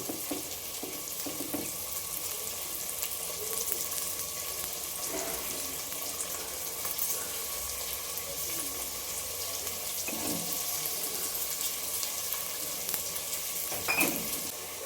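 Pudina pulao masala frying in a pan, a steady soft sizzle with occasional stirring scrapes, close and continuous without talk.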